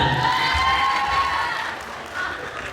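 An audience at an Islamic boarding school talk show claps and cheers, with young voices shouting over the applause, which dips briefly and then swells again.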